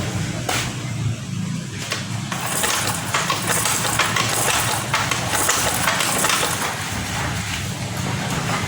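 Honda Scoopy 2022 scooter with a battery that keeps dropping, kick-started and then idling, a close, steady mid-pitched engine putter with a few sharp clicks near the start.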